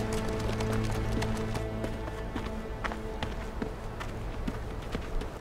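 Horses clip-clopping in a historical drama scene, rapid overlapping hoofbeats at a running pace, close and steady over a low background of music or ambience.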